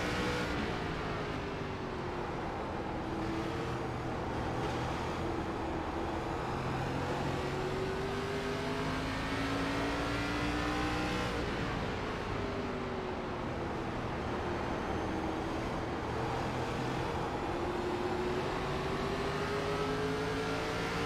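Engines of a pack of ARCA stock cars in a sim racing game at a virtual speedway drone continuously and loudly, pitch sweeping up and down as cars shift and pass, with no talking.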